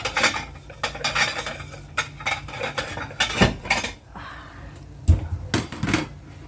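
Cooked chicken wings and salmon being set onto a plate, with repeated clinks and scrapes of utensils against dishes in irregular bursts, fairly close and clear, with no talking.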